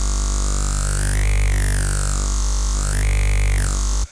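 A squelchy neuro bass synth patch in Xfer Serum, shaped by sync warping, drones for about four seconds. It is loud and sustained, with a formant-like sweep that rises and falls twice before it cuts off abruptly.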